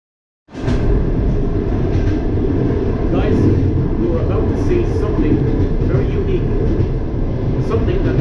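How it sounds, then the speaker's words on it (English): A loud, steady rumble and rattle from inside a moving Soviet-era train carriage in provincial Belarus begins abruptly and continues unbroken, with faint clanks above the din. "I'm on a Soviet train."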